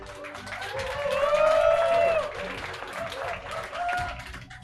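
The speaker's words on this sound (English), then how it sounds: "Give him a big round of applause." Audience applause at the prize-giving of a sustainable rum cocktail competition's Asia Pacific regional final: a sustained, full round of clapping that swells and then settles, mixed with crowd noise and some tonal voices or music.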